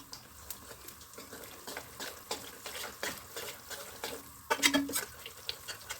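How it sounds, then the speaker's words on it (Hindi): Wheat flour and gond powder fry in ghee in a pan under steady stirring, a soft continuous sizzle with repeated scraping strokes and a brief louder clatter near the end. "इसी आटे के साथ ही हम गोंद को, जो ये पाउडर बनाया था, इसको फ्राई करेंगे।"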